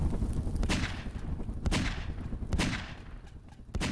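Gunfire from a weapon shot at an object in Garry's Mod, four loud close bursts spaced about a second apart, each with a sharp crack and a fading roar, with no voices.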